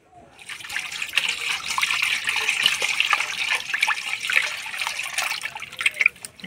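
Flour dough being washed by hand in water, with continuous sloshing, splashing and trickling sounds that stay steady and close, with a few louder splashes near the end.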